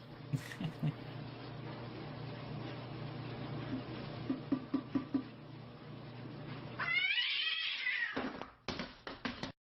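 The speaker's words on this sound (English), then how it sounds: "Dealing with this stupid cat." A domestic cat meows and then lets out a loud, drawn-out, wavering yowl near the end, heard close over a steady low indoor hum with a few scattered taps earlier.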